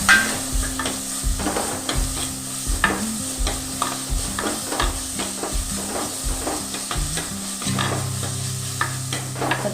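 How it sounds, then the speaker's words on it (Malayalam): Tomatoes and green chilies sautéed for a fish curry, a spoon stirring and scraping the pan in a regular rhythm over a steady close sizzle, loud and with no voices. "തക്കാളി നല്ല വഴഞ്ഞ് വരട്ടെ അതിന് വന്ന പിന്നെ ഏകദേശം വഴഞ്ഞ് വരാൻ തുടങ്ങിയിട്ടുണ്ട് അപ്പോഴേക്ക് പച്ചമുളക് കൂടെ കൊടുക്കണം"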